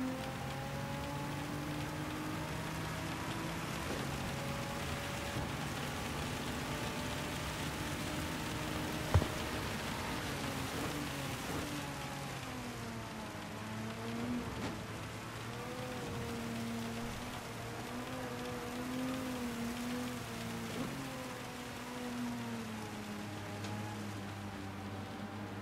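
Steady rain hisses throughout in Gran Turismo 7, layered over droning race car engine tones that rise and fall, with one brief sharp click midway.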